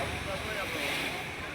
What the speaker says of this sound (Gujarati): ખાલી દરિયાના મોજા આવે